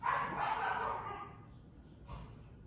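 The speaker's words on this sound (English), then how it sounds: "You can even hear a couple dogs in the background playing with some distraction." A couple of dogs playing somewhere in the background give off a few soft, distant barks and yips, strongest at the start and fading, with another brief burst near the end.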